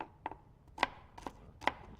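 A knife chops scallions on a cutting board for hot crab dip, with sharp, crisp thuds in an uneven rhythm of about five strikes, close and clear.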